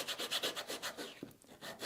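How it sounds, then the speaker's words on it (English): Sandpaper scuffing a piece of leather, quick back-and-forth rasping strokes in a steady rhythm, close and fairly soft, pausing briefly before resuming. "take some sandpaper or a roughing tool, and what we need to do is roughen both sides of the leather"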